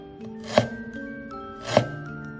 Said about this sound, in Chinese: 蒜切成粒，香菜只要根部，葱切葱白部分，再来切一些姜片